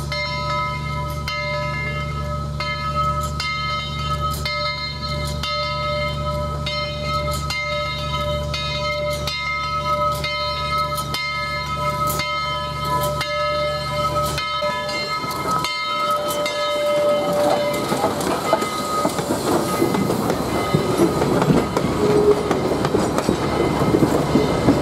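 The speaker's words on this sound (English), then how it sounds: "Southern Railway 4501 is departing Grand Junction," Southern Railway 4501, a steam locomotive, departs Grand Junction bound for East Chattanooga during a railroad museum anniversary weekend. A steady low rumble and clanking wheels build as the train gets under way, with faint bell-like tones ringing over it.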